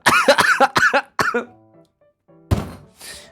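A run of harsh coughs, several in quick succession, then a pause and two more rough coughs up close.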